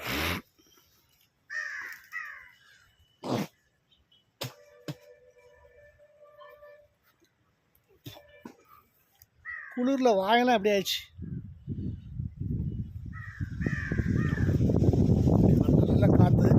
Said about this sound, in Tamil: ஊட்டியில் உள்ள காக்காலாம் எப்படி இருக்கு பாருங்க